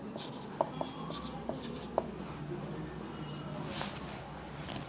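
Chalk or marker writing on a classroom board during a Class 6 mathematics lesson, a few sharp taps and strokes standing out over a steady low room hum.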